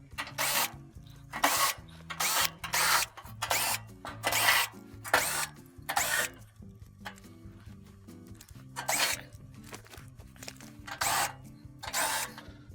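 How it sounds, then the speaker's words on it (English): A power drill backs out 7mm bolts holding the top panel on a Frigidaire gas oven, giving repeated short whirring bursts with brief pauses between them, close and fairly loud, with no talking. "Next, we'll remove our 7mm bolts that are holding the top panel on."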